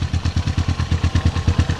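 A motorcycle engine idles close by in the morning near Kaybiang Tunnel, with a steady loud rhythmic putter of regular low thumps and light mechanical clatter running throughout.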